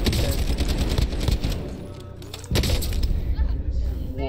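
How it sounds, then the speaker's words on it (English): Gunfire in an online shooter game, including sniper rifle shots, bursts and booms over a busy game soundscape while a player talks excitedly throughout. "It's another person with a sniper rifle"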